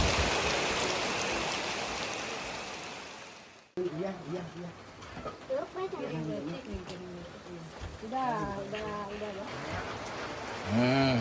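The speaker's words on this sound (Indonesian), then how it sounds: "Hujan gede banget kawan-kawan." Heavy rain hisses steadily for the first few seconds, then cuts off, and someone talks over a quieter background wash for the rest.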